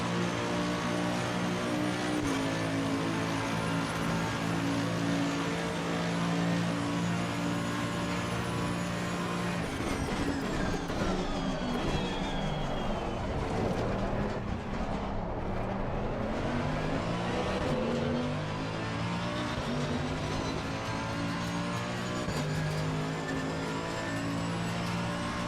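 Mercedes-AMG GT3 race car engine in Assetto Corsa Competizione, a loud, continuous in-car drone with steady harmonic tones, shifting pitch as the engine revs up and down through gears, with no talk over it.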